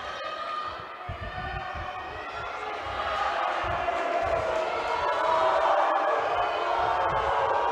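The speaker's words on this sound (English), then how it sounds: "So the crowd's really behind the Hungarian here" Arena crowd at a judo championship in Budapest roars steadily, swelling louder halfway through as spectators cheer on a Hungarian competitor, a broad sustained noise with no clear voices standing out.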